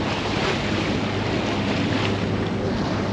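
Steady broadband wind and sea wash recorded from a boat off Guernsey in a northeasterly, with constant microphone buffeting and surf hiss filling the whole stretch without pause.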